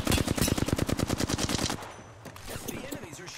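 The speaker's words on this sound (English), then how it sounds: "The enemies are shooting at me." Rapid automatic gunfire from enemies in the video game Apex Legends, a loud, fast burst of evenly spaced shots lasting under two seconds, followed by quieter scattered shots and game noise.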